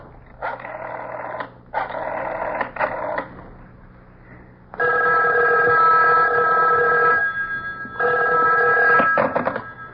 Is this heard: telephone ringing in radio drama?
yes